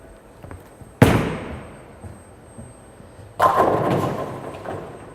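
A bowling ball rolls down the lane and crashes into the pins twice. Each strike is a loud, sharp burst that decays over about a second, followed by a second longer rumbling clatter.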